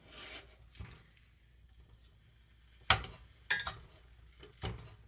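A metal spatula chops ground beef in a pan for hamburger, giving a few quiet scraping rubs and then several sharp scattered taps and clanks, close and fairly faint.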